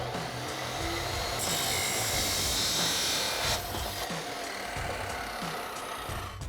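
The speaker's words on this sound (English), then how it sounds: "we're just gonna take our chop saw and cut off the extra." A chop saw cuts excess exhaust pipe off an F-150 EcoBoost dual exhaust system, giving a steady, loud grinding roar throughout with a brief harsher surge partway through.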